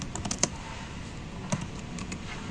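Typing a command on a computer keyboard during a Python Django coding lesson in PowerShell: a short run of quick, soft key clicks, fairly faint, with a couple of louder taps standing out.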